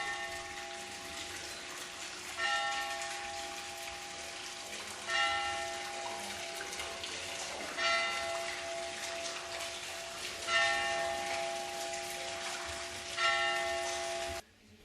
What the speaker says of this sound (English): Is that the dinner bell?